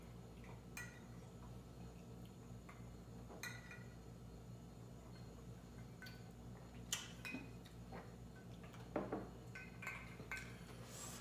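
Glasses of Four Roses bourbon served on the rocks clink together, with scattered light chinks and ice rattles spread over several seconds, faint and close in a quiet room.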